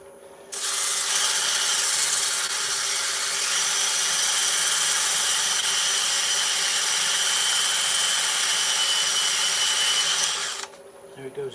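A wood lathe used for turning starts up, holds a loud, steady high whine for about ten seconds, then cuts off and spins down.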